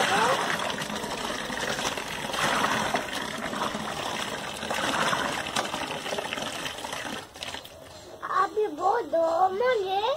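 Water gushes steadily into a bucket at home during Holi cleanup, with hot water being added; the rushing stream runs continuously for several seconds under people talking, then thins near the end.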